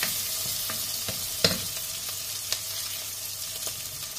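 Egg being stirred into pancit noodles in a hot pan, a steady sizzle of frying broken by a few scraping utensil clicks, close up with no talk.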